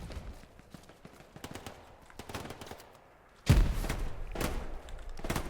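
Gunfire in the WWII shooter Hell Let Loose during a casual skirmish event: scattered distant shots in the first half, then louder, heavier bursts close by for the last two seconds.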